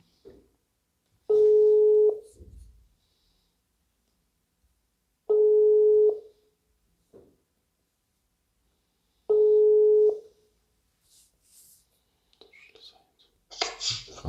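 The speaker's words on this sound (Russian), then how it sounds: "Давайте попробуем дяде позвонить." A telephone ringback tone plays while a call is placed. Three steady, evenly spaced tones about four seconds apart sound clearly in a quiet room, followed by faint rustling and a brief voice at the end.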